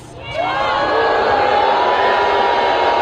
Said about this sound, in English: Why are they booing the Times?